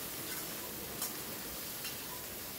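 Cut okra fries in mustard oil over a high flame, making a steady, soft sizzle that continues without a break, with a few faint ticks and no talking.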